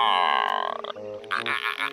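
A cartoon frog croaks in a rapid, buzzing, voice-like rattle, up close and loud, followed by a brief second croak, with no other talk.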